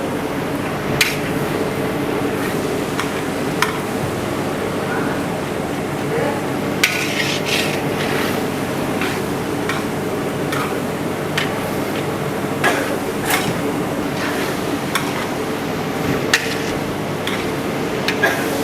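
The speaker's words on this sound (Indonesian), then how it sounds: "bombaynya kita tumis dulu sampai sedikit layu ya teman-teman" A large batch of sliced onions sautéing in a big pan for a 40 kg beef cooking job, with steady sizzle under repeated clinks and scrapes of a utensil against the metal, near and continuous.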